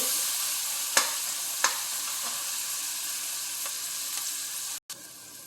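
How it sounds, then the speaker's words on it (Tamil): Onions sauteing in a pan for a lentil and brinjal gravy give off a steady close sizzle and crackle, broken by a few sharp clinks of a spoon against the pan, with no talking. "பாருங்க, வெங்காயம் வதங்குது."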